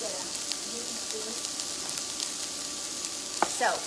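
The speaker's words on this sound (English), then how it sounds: "we're going to saute this up on low, let this soften" Shaved Brussels sprouts and fennel softening in a pot over low heat give off a steady, soft sizzle with a few stirring scrapes near the end.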